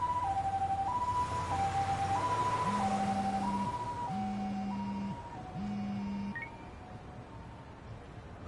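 An ambulance siren in Lost Judgment on PS5 wails in a steady two-tone pattern while a low hooting horn repeats beneath it, fading slightly toward the end.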